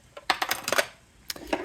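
Metal scissors fall while being put away among craft templates, clattering in a few quick bright bursts of clinks and rattles close by.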